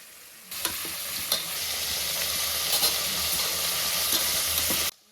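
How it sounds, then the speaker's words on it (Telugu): Onion, green chilies, tomatoes and curry leaves hit hot oil and fry in a pan, a loud sizzle bursting in abruptly and holding steady, punctuated by several sharp stirring knocks before cutting off near the end. "ఇప్పుడు ఒక కప్పు పచ్చిమిరపకాయలు టమాటాలు కరివేపాకు వేసి వేయించుకోవాలి"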